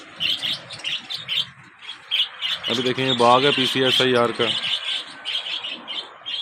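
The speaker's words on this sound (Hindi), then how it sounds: "इसमें काफ़ी ऑस्ट्रेलियन तोते उड़ते पड़े हैं।" Australian budgie parrots in a cage at a garden in the PCSIR Society, Lahore, chirp and tweet busily and continuously, with someone talking over them in the middle.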